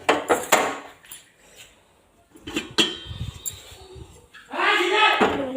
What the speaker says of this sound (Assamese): এতিয়া কেৰাহীটো বহাই দিম